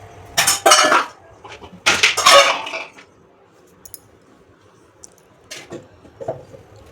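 A ladle scrapes and clanks against a pot in short, loud bursts while cream is stirred on high flame to make cow ghee, then settles into quieter scattered scrapes and taps.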